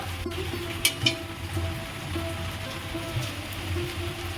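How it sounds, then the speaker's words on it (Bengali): Palm fruit fritters frying in a pan of oil give a dense, steady sizzle, hissing like rain, with a couple of brief sharper crackles, close and continuous without voices. "বাকিগুলো সব ভেজে নেব"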